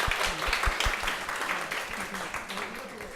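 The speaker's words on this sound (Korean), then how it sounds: "노벰버 2인님께 박수 한번 부탁드립니다." An audience at a public radio broadcast applauds with a dense wash of clapping throughout, continuing beneath a host's voice.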